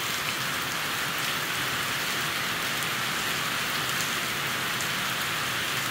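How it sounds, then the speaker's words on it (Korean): Heavy rain shower pouring down steadily, a dense, continuous hiss of drops striking surfaces at even loudness throughout, with no voices. "비가 엄청나게 지금 막, 마구마구 쏟아지고 있어요"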